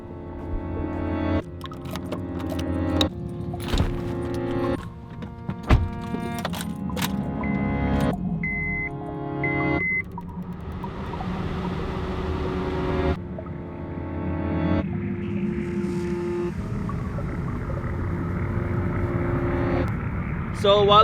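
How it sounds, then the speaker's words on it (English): Engine and road noise from a car being driven, heard steadily throughout with a person talking over it. "So while I'm driving to Dylan's house"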